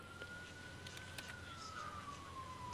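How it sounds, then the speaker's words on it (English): A police siren wails faintly in a neighborhood at night, a distant drawn-out tone that slowly falls in pitch under quiet background noise. "There's a police siren in my neighborhood."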